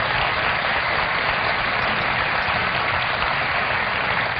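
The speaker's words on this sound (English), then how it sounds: "Wasn't that resounding an applause for her?" Steady, dense applause from a talk show studio audience, loud and unbroken throughout with no talk over it.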